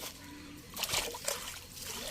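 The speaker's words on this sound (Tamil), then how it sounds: "தொட்டி கட்டி ஃபுல்லாக திருக்கோயிலூர்லேருந்து செஞ்சிக்கு போகுது இந்த தண்ணி" Water splashes and trickles through a concrete channel feeding tanks on its way from Tirukkoyilur to Gingee, sloshing in irregular bursts close by with no one talking.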